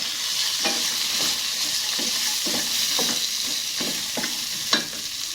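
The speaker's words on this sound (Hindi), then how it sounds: "हमने इनको सिर्फ 1-2 मिनट के लिए फ्राई करना है ऑयल के अंदर" Coconut pieces frying in hot oil in a pan over medium heat, a steady close sizzle with repeated soft scraping stirs and one sharper clink near the end.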